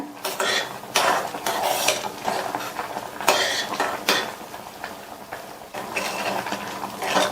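A spoon clatters and scrapes around a metal pot as pumpkin sago payasam with ghee-roasted cashews and raisins is mixed. The strokes are loud and close, in steady rough bursts with no talking.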